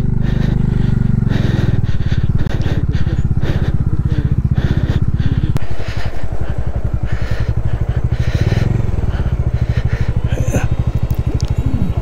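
A motorcycle engine labours steadily and loudly at close range on a Zanskar ride, its rapid thudding pulse continuous as the bike struggles through slippery, sinking mud.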